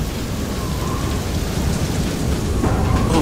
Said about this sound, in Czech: Už začíná pršet, tak to není dobrý.